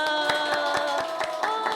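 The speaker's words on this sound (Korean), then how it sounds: "자, 우리 엄청 큰 박수로 환영합니다." A group of children clap together in welcome at a church kids' club, a steady run of evenly spaced claps under a sustained musical tone, moderately loud and close.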